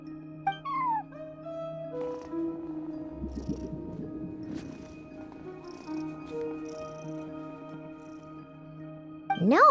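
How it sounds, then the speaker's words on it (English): Cat in Genshin Impact, a short meow near the start and a louder rising meow at the end, with a soft purring rumble and quiet game music tones in between, no speech. "No one except for a cat watching over the front desk."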